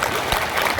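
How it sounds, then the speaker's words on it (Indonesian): Crowd applause at an Indonesian religious gathering in Manokwari, a brief burst of dense clapping filling the short moment without pause. "Tepuk tangan untuk Manowari."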